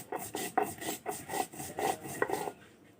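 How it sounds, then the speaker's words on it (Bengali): Cumin seeds ground by hand on a flat grinding stone, a steady rasping rub repeated in about eight even back-and-forth strokes, close and alone. "এখন আমি বেটে নিচ্ছি জিরা।"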